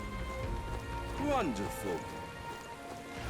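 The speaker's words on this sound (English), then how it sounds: "This bloody rain." Rain falls in the video game Metaphor: ReFantazio, a steady wash of patter beneath character voices that speak briefly over it.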